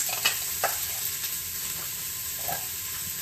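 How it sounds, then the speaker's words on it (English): Onions hit hot oil in a pan for a risotto, giving a steady, bright sizzle that carries throughout with a few small crackles and pops, close up and with no voices. "I'm going to go ahead and add my onions to that. And you can hear it searing in there."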